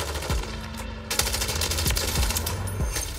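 MTZ 556 assault rifle firing in Call of Duty MW3, rapid sustained automatic bursts, loud and close, with punchy impacts layered through continuous gunfire.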